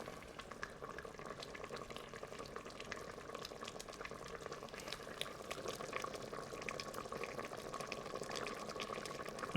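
Thick beef stew bubbles in an Instant Pot with a steady, faint stream of soft pops and gurgles, continuous throughout without talk.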